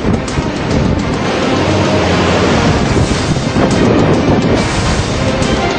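Strong cyclone winds from Cyclone Hudhud striking coastal Andhra Pradesh, a loud, continuous roaring rush with broadband buffeting and gusty surges, steady throughout with no voices.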